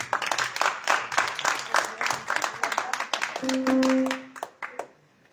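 Audience at a live song performance claps steadily for several seconds, a mix of individual hand claps that thins out and stops, with a brief tonal hum near the end.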